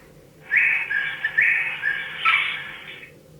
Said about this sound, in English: Don't tickle the toucan, you might make it squawk.